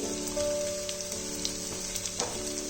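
Vegetables fry in a pan for a hilsa-head and Malabar spinach chorchori, giving a soft, steady sizzle like light rain with a faint underlying hum and occasional small pops.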